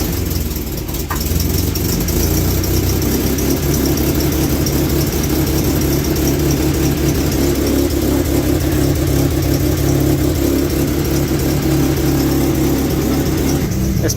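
A 1996 Mitsubishi Eclipse engine idles steadily and loudly up close for the whole stretch, its low rumble holding even after a brief crank-like bump at the start.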